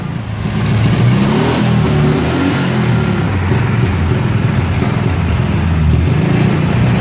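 A ZAZ-965 car's engine revving loudly and steadily up close, a continuous buzzing mid-pitched roar with wavering pitch as the throttle is worked, with no talking.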